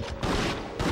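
Gunfire at a zombie in the video game Resident Evil Outbreak: loud, dense, close blasts in a brief burst, with two heavy hits about half a second apart.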